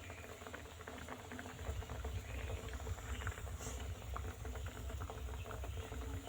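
Potatoes simmer in a pot of water on the stove, a faint, low, continuous bubbling and burbling with soft irregular pops throughout.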